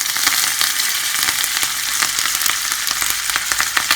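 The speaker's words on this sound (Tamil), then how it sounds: "கருவேப்பிலை வந்து கொஞ்சம் இதை சேர்த்துக்கிறேன்" Curry leaves fry in hot ghee for one-pot sambar rice, giving a loud, dense crackling sizzle with rapid pops and spatters close up, steady throughout the short stretch and free of talk.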